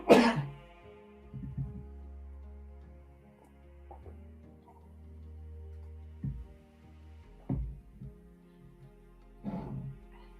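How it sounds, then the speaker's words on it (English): A single person coughs several times, short isolated bursts spread through a quiet stretch at a live online study session, fairly close and moderate in loudness with long pauses between. "excuse me for coughing"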